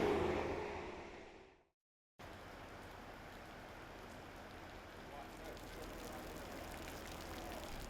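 Heavy rain pours down in a dense, steady hiss after a brief silence, constant and fairly close, with no voices over it.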